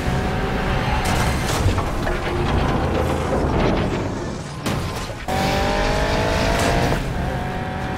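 Race cars roar along a highway heist chase in Need for Speed Payback, engines revving loudly and continuously with tire squeals, brief whooshes of passing vehicles and a short break midway.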